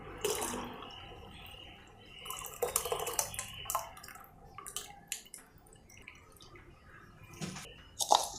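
Lentil cooking water is poured into a pot of watermelon rasam with uneven splashes and drips, plus a few clinks and sloshes, moderately close and without talk.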